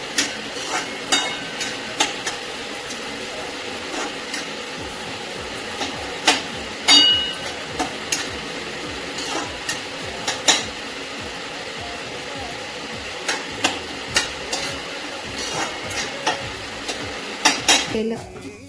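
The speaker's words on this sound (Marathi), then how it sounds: "त्याचा पण कलर चेंज होईपर्यंत भाजायचं" Broken wheat for a jaggery lapsi roasts on a low flame in a pan while a spoon stirs it, a soft continuous sizzle broken by repeated sharp metallic scrapes and clinks of the spoon against the pan.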